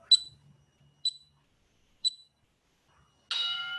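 Workout interval timer during a Tabata session, three short, evenly spaced high beeps about a second apart, then a longer, louder tone.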